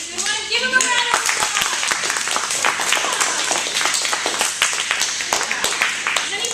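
A round of applause from a group at a talk on suicide and depression, steady mixed clapping throughout with a few voices and a child's speech-like sounds at the start.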